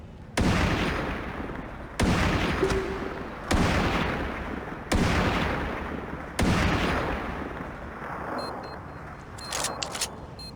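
Sniper rifle shots from the mobile game Sniper 3D Assassin during a headshot challenge, five loud sharp blasts spaced about every one and a half seconds, each with a long decaying tail, followed by small clicks.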